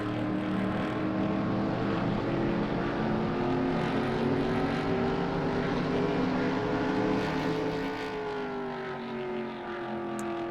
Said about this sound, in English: My engine is really peaking at the end of that front stretch